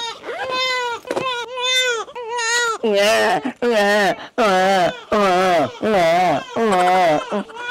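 An infant cries loudly in repeated wailing bursts separated by short gasping pauses, close by and sustained across the whole stretch.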